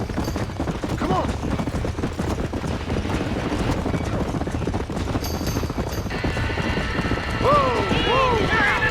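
Horse hooves clip-clop in Red Dead Redemption as horses are hurried out of a burning barn, steady hoofbeats under frantic voices, with whinnies and high calls rising near the end.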